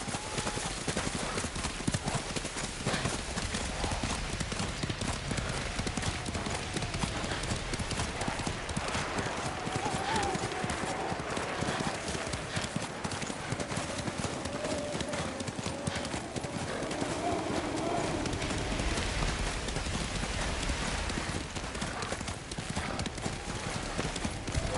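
Horse hooves gallop in a samurai video game set on Tsushima during a Mongol invasion, a rapid, steady clip-clop that runs throughout, close and moderately loud, with occasional whinnies, game ambience and voices in the background.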